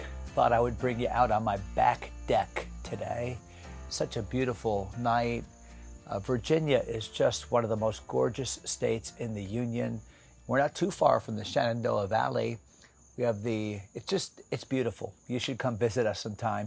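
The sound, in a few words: cicadas chirping on a porch at night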